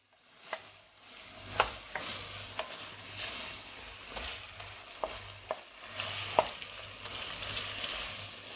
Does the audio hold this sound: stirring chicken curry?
yes